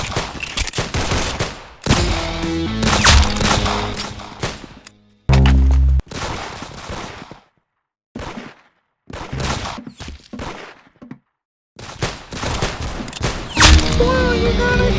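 Dense video-game gunfire with pistols comes in bursts of rapid shots and loud cracks, separated by sudden gaps of silence, with game sounds and some voice between volleys.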